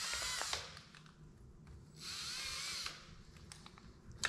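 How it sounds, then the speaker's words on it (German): A small power drill whirs in two bursts while driving screws on a dairy farm, with clanks and bumps between runs and no talk. "Vielleicht sollten wir eine kleine Bohrmaschine nehmen."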